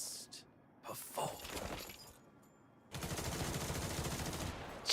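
Gunfire volley in the video game Duet Night Abyss, with a few scattered shots and breaking sounds early on, then a dense, sustained burst of rapid fire through the second half.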